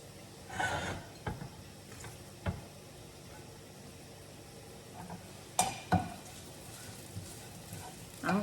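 Hot oil boils and sizzles faintly in a pan, a soft steady hiss broken by scattered clinks and knocks of utensils.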